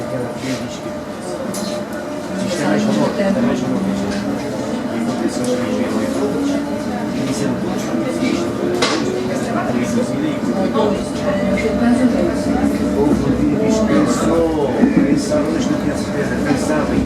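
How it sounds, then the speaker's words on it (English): A passenger train travelling from Girona toward Calella in Spain rumbles along steadily, with rail clatter and a rising, sustained drone of wheels and carriage noise lasting the whole stretch. "we get on the train along to Calella."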